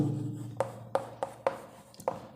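Writing on a board during a lecture, a series of about six regular sharp strokes tapping and scraping, close and clear with no talking.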